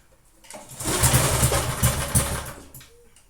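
A small rototiller engine running at half throttle without choke sputters to life, revs roughly with uneven pulses for about two seconds, then fades back toward quiet.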